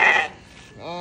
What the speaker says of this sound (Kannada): ಇದು ನಮ್ದೇ ಮೇಕೆ.